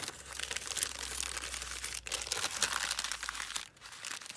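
Brown paper bags being handled and folded into an envelope, with continuous close crinkling and rustling of stiff paper and a few brief pauses, no talking.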